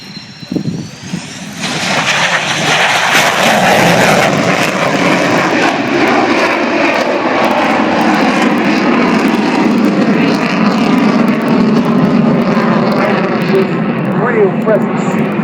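A display aircraft making a low approach at the Royal International Air Tattoo in Fairford, 2012: after a brief quieter opening, a loud engine roar swells in and holds strong, with a commentator talking over it.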